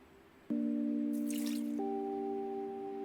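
Flower-watering effect in the video game OMORI: a soft splash at the start, then a sustained chiming tone that steps up in pitch partway through and rings on steadily to the end, with no talking.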